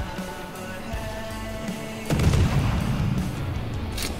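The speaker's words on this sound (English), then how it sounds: "I'll just add a little bit of HE to the mix. Might be able to set him on fire." Destroyer guns firing high-explosive shells in the naval battle game World of Warships, Shiratsuyu destroyer: a deep, loud boom lands mid-clip and rolls on with a rumbling tail over steady background noise, no talk.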